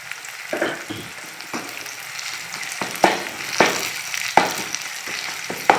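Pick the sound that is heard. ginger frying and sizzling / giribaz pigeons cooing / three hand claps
ginger frying and sizzling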